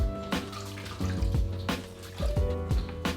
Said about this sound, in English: So you want to get it thoroughly rinsed off.